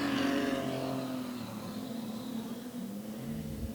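A street stock race car roars down the back straight late in a feature race, its engine loud and steady at first, then easing slightly as it carries on, with no talk over it.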